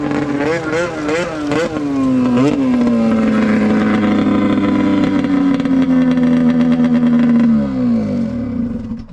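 An Arctic Cat F7 snowmobile engine revs hard and loud up close, climbing through a few quick blips into a sustained high-pitched scream before dropping off near the end.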